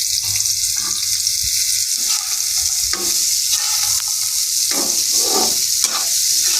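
Onions sizzle in hot oil with pointed gourd as a spoon stirs and scrapes the pan, a loud, steady frying hiss broken by repeated clattering stirs close by.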